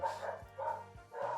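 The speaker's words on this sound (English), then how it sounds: "Oh, dogs." Dogs barking in three separate bursts, a muffled, moderately distant bow-wow pattern at roughly even intervals.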